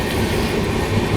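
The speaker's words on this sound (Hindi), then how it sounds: "अभी बहुत देर बाद एक ट्रेन की क्रॉसिंग मिली है" Loud, steady rumble and rattle of a train passing on the adjacent track, heard from aboard the Pune–Hyderabad Shatabdi Express, close and continuous clatter with no speech.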